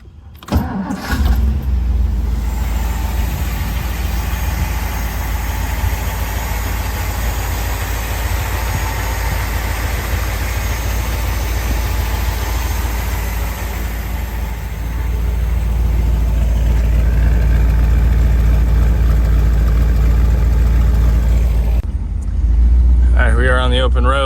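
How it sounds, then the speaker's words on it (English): A 1955 Ford Thunderbird's engine cranks and fires, then settles into a loud, steady idle heard up close for about twenty seconds before it briefly cuts off and restarts. "So let's fire her up and then take it for a spin."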